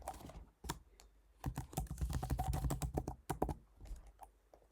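Quiet, close clicking of computer keyboard keys as an email address and password are entered, with irregular bursts of keystrokes and brief pauses.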